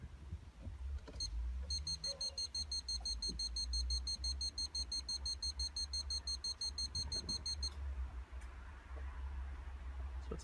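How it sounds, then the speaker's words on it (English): A VW Golf Estate's reversing sensor beeps rapidly at an even high pitch for several seconds over a low engine rumble, then stops. "So it's beeped quite a bit."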